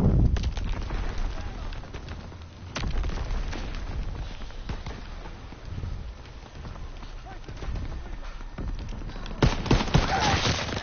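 Gunfire in the World War II shooter Call of Duty WW2: scattered sharp shots and short bursts cracking over a rumbling battlefield bed, fairly loud, with voices talking in places.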